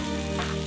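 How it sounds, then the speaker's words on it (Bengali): Chopped medium onion sizzles lightly in hot oil in a pan for a broccoli soup, a brief, steady frying hiss close up with no talking. "পেঁয়াজটাকে হালকা সটে করে নেব।"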